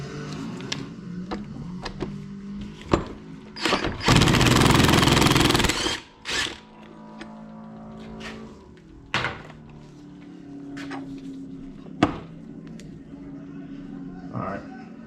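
A wheel bearing is forced out in a shop press, with scattered metallic clunks and knocks around a loud few-second hydraulic or air hiss, then more thuds and clanks as the parts shift.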